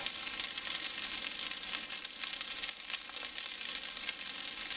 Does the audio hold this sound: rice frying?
yes